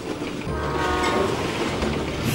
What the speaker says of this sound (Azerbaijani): 104 saylı platformamıza top qatar yaxınlaşır